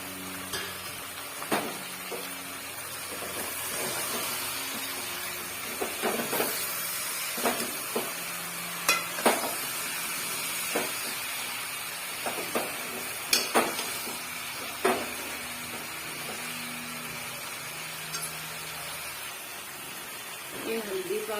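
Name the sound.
cumin, coriander and red chilli spice mix frying in pan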